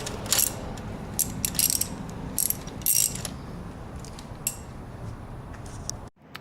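A hand ratchet loosens bolts on the ignition of a Mazda RX8, with bursts of quick clicking pawl strokes close up and pauses between them, ending abruptly.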